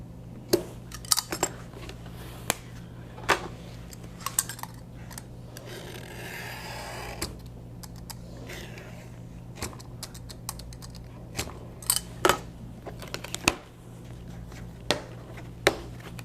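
Scissors snipping through orthosis material, sharp irregular clicks and crunchy cuts scattered over a quiet room with a steady hum, plus a brief rustle of handling in the middle.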